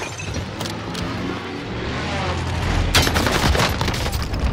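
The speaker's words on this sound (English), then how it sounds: "Enemy precision airstrike. Take cover." An enemy precision airstrike in a video game hits as a run of loud rumbling blasts and crackling impacts, building up and peaking in a dense burst of explosions near the end.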